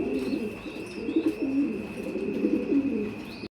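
Running pigeons coo repeatedly at a pigeon market, close and clear over a steady high electrical whine, with no talking.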